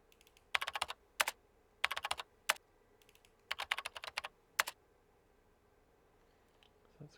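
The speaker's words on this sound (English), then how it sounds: "computer typing." Bursts of computer keyboard typing, crisp close key clicks in quick clusters separated by short pauses, heard alone in a quiet room as a film sound effect.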